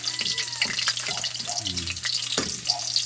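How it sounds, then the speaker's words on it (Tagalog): Garlic dropped into hot cooking oil in a home kitchen, a close, continuous sizzle and crackle with a few light stirring clinks. "So lulunan natin yung bawang o ahos sa Bisaya."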